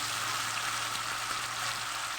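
Ground onion paste fries in a pan with a loud, even, continuous sizzle heard up close and alone.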